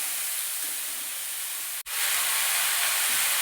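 Hog plums (amra) stirred in hot oil with crushed ginger and five-spice while making a pickle, giving a steady loud hiss of frying that cuts out briefly midway, then resumes.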